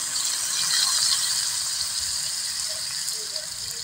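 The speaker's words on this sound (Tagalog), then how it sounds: "at maglagay lang tayo ng soy sauce" Soy sauce poured into bitter melon cooking in a pan, a steady hissing, gushing liquid sound with faint rattling, moderately loud and continuous with no talk.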